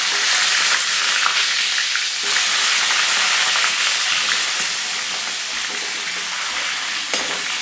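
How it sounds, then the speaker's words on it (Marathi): Stuffed eggplants fry loudly in hot oil in a kadhai with mustard seeds and cumin, giving a dense, continuous close sizzle and crackle with no talk. "कढईमध्ये दोन मोठे चमचे तेल घेतलेलं आहे त्यामध्ये मोहरी घालायची जिरं घालायचं आणि मसाला भरलेले वांगे घालायचे"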